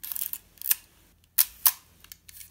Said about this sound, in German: Der Auslöser geht auch.